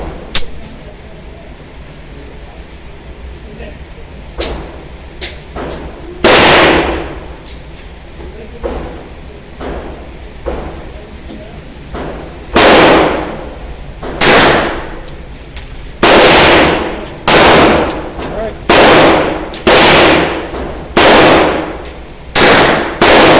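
A Beretta 1935 pistol fires outdoors with ammunition feeding trouble: sharp, loud shots with ringing tails, a few spaced apart early, then a quicker string of reports later, alongside metallic handling clicks.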